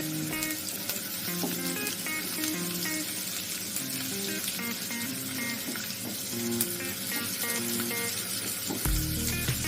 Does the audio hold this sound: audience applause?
no